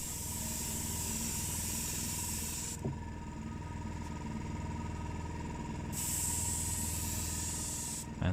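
Paint sprayed from an airbrush onto the fuselage of a 1/72 scale Matchbox Skyservant model kit, a steady close hiss running in two long bursts with a short pause between them.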